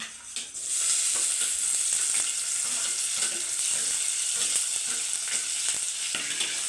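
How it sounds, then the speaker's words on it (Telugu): Onions tossed into hot oil in a pan, a loud sizzle bursting up after a brief quiet moment and continuing as a steady hiss with faint stirring scrapes. "ఎర్రగడ్డలు వేస్తున్నాను."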